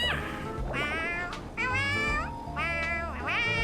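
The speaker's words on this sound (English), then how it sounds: "It says woof woof woof, but it's making meowing noises?" A game creature gives several bright, drawn-out meows in quick succession, loud and close, with little else around them.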